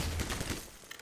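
Dense, continuous gunfire in Half-Life 2 fills the short moment, a loud rattling barrage with a low rumble beneath, easing slightly toward the end.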